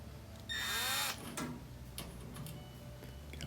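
A power drill tightens screws on a washing machine that keeps filling on its own, giving one loud whirring burst of about half a second that winds down, followed by faint clicks and handling noise.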